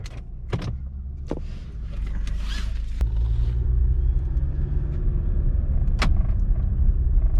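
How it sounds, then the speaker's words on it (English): A steady, low engine rumble fills the interior of a 2009 Nissan Versa as it drives after a coil pack replacement fixed a misfire, with a few sharp clicks and thumps near the start. "We'll go take it for a quick drive."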